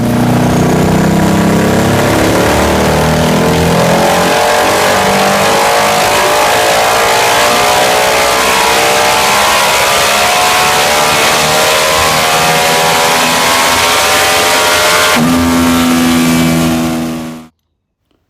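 Millyard Honda SS250 race engine running on a dyno, a loud, close, continuous high-revving motorcycle engine climbing steadily in pitch, a brief shift near the end before cutting off abruptly.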